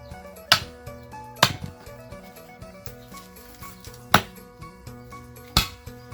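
Several sharp, separate strikes land at irregular intervals over a steady background drone, a hammer driving a wooden stake into the ground for a fence around bamboo.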